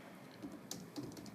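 Quick keystrokes on a computer keyboard entering a web address, a short burst of soft, close clicks with nothing else heard.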